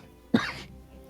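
A single short, sharp cough from someone with a tickle in the throat, close and fairly loud, followed by a quiet room.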